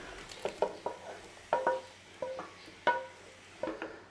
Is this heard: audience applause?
no